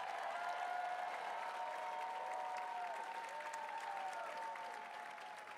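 A crowd at the Western States 2025 race meeting applauds the elite women's ultramarathon field, loud sustained clapping filling the room for over five seconds before slowly tapering near the end.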